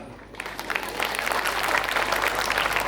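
Clapping swells from a quiet hall into steady, moderately loud audience applause at the start of a stage comedy show during a Gauri-Ganesha festival program.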